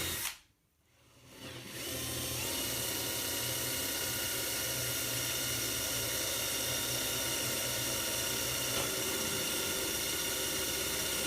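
A power drill bores through the bridge of an acoustic guitar under rebuild, running as a steady, loud, close whine that holds for about ten seconds after a short start-up.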